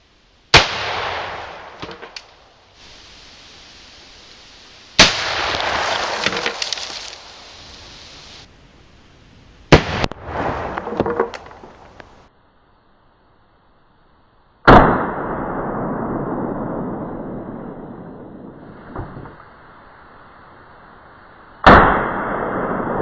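Shotgun firing Engle Ballistic Research Safety Slugs, several sharp loud blasts spaced seconds apart, each followed by a lingering noisy tail and impact clatter.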